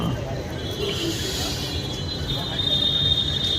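A busy Kolkata railway station heard as a broad, steady crowd-and-machinery rumble with a faint high whine, continuous ambience without distinct events.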